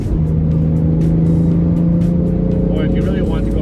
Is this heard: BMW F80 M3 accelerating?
yes